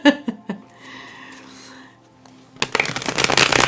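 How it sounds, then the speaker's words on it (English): Tarot cards are shuffled close up in a brisk, dense riffling burst near the end, after a few soft taps and a quieter stretch. "got distracted during that shuffle."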